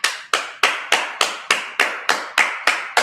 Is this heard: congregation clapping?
yes